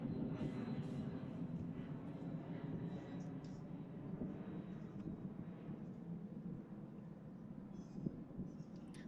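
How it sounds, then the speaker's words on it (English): An airplane passes overhead during an outdoor junior girls' national tennis championship, its broad, steady rumble filling the background at constant loudness throughout, with a brief sharp knock near the end. "Also had a plane overhead at the moment"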